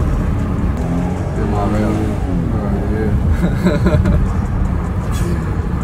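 A car with an aftermarket exhaust line accelerates, its engine rumbling loudly and rising in pitch over several seconds, heard close up and continuous.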